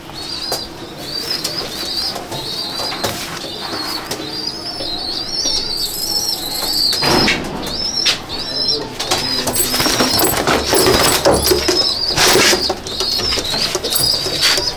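Pigeons in a breeding loft coo in repeated soft calls while wings flap and clatter in loud bursts, close and busy throughout.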